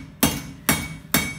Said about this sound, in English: we're now gonna use a lighter hammer so we can have